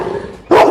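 An aggressive dog barks once, loud and close, in a single sharp bark after a brief lull of low background noise.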